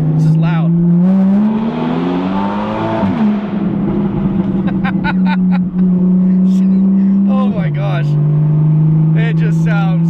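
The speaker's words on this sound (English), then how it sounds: "Also, the underpass. This is loud." A Porsche with a custom straight-pipe exhaust drones loudly and close as it drives through an underpass, its engine note holding steady and dipping with gear changes, with voices talking over it.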